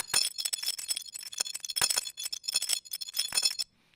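ChucK granular synthesis with random grain repositioning gives a stream of crisp, glassy clinking bursts in irregular clusters that stops abruptly near the end.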